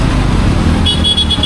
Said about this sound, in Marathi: अरे कशाला हॉर्न मारतो यार.